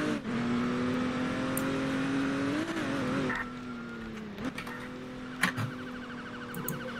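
A police car in the Roblox ER:LC video game drives steadily with a sustained engine drone, rises briefly as it revs, then settles, with a few sharp clicks toward the end.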